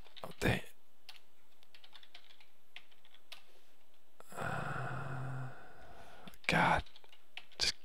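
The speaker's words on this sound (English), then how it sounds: "just keep typing the password in wrong." Sparse key clicks of someone typing on a computer keyboard nearby, broken by a soft sigh and a few louder thumps.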